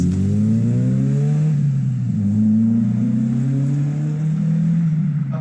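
A Mk2 VW Golf with a stainless steel Scorpion exhaust idles and revs, a deep steady drone whose pitch climbs and dips as the throttle blips, loud and close with no talk over it.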